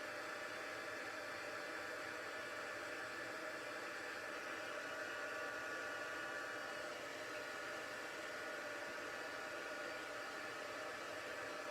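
A hair dryer blows steadily on a shiny green craft piece, its constant close whooshing hum unbroken from start to finish, with no talking.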